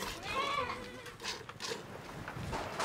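Goats bleat on a goat farm in rural Chile, several wavering calls at close to middle distance mixed with shuffling, while a person speaks Spanish.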